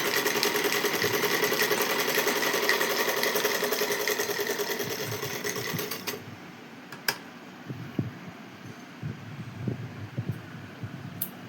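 A sewing machine stitching clothing hums and ticks steadily at close range for about six seconds, then stops. Quieter handling clicks and taps follow.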